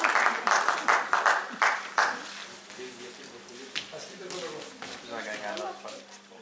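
An audience at an award ceremony for a chess tournament at the Farsala halva festival claps in a brief burst of applause that fades within two seconds, after which someone speaks into a microphone.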